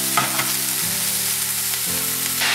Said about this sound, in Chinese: 云锅内放进鸡肉，这是要利用煎锅来做简易版的串烧